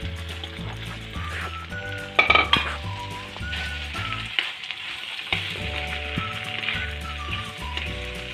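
Large onions fry in a pan for aloo unnakkaya, a steady close sizzle with a few utensil clinks, partly under background music.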